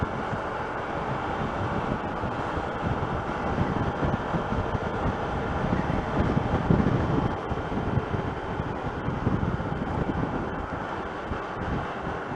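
Steady, heavy wind buffeting a microphone while riding a motorbike, a low rumbling roar that swells slightly midway, continuous and loud with no voices.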